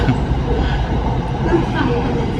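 Steady rumbling roar of a commuter train on Bangkok's SRT Red Line in motion, heard from inside a carriage, continuous and fairly loud, with faint rattles and talk mixed in.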